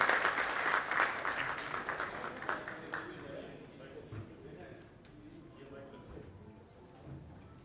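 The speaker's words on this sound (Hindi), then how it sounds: "जोरदार तालियों से स्वागत करें माया गोविंद जी" An audience at a book launch and mushaira claps strongly to welcome a poet, then the clapping fades under talking.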